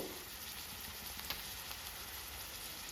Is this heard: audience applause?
no